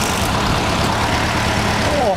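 Steady low idle of a roughly 100-year-old Austin 7 engine close by, a continuous rumbling drone with a faint high whir near the end, and a voice talking over it.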